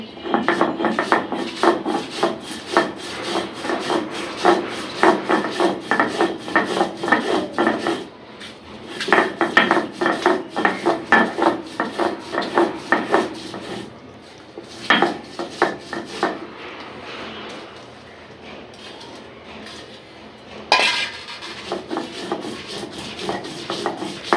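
Garlic, onion, green chili and salt are mashed by hand for a Bengali garlic bharta, with repeated rough grinding and scraping strokes in uneven bursts, plus occasional clinks and brief pauses, close and fairly loud without speech.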